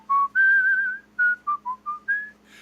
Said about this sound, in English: what was the weird metatextual whistling?